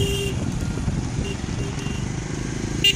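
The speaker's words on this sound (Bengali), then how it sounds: "এই সেই বাইকাররা যাচ্ছে লাদাখ ট্যুরে" Bikers' motorcycles on a Ladakh tour pass through a long traffic jam toward Zoji La, giving a low, throbbing engine rumble that continues steadily, with a faint horn-like tone near the end.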